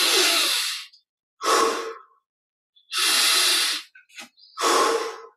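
Guided meditation breathing, four long, loud breaths in and out close to the microphone, airy and hissing, separated by short silences with a small sniff between.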